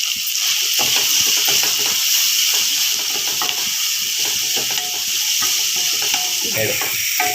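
Onions frying in a pan for mango chitranna, a steady loud hiss and sizzle with faint clinks of stirring throughout.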